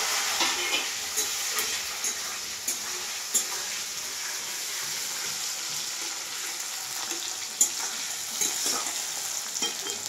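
Onions sizzle steadily in a hot pan, with occasional clicks and stirring scrapes over the constant frying hiss.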